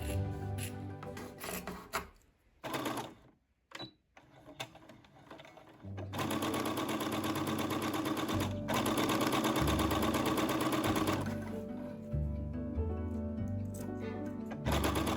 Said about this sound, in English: we were ready to stitch a quick mock-up